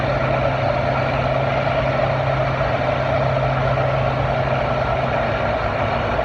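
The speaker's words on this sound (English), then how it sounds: "You get a glimpse of a tractor pulling." A farm tractor engine roars steadily at a tractor pull in Halls, Tennessee, a loud, continuous heavy drone with a strong low hum that holds evenly throughout, no voices over it.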